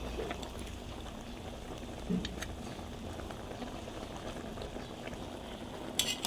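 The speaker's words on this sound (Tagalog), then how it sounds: "Kumukulo na guys ang steam white chicken natin." A pot of chicken stew made with 7-Up bubbles steadily at a low simmer, a soft continuous gurgle with a couple of light clinks.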